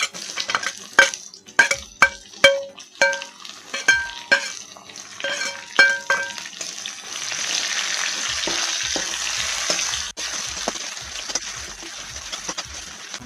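Onions go into a pan of already-fried ginger and garlic for a chicken kathi roll filling: a run of sharp utensil clacks and scrapes from stirring gives way to a steady, loud hiss of frying.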